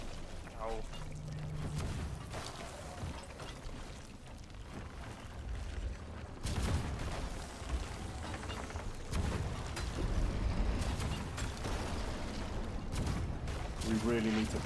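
Repeated deep booms of cannon fire in the video game Sea of Thieves, heavy and rumbling, mixed with crashing debris and a voice talking between the blasts.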